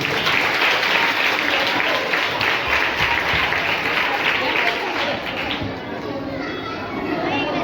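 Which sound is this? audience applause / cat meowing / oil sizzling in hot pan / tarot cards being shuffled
audience applause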